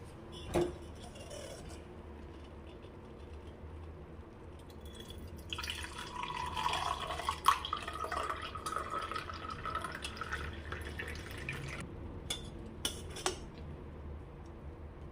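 Cooled boiled herbal hair-serum liquid trickles and drips steadily through a strainer, with a thin watery splash building in the middle and a few sharp clinks near the end.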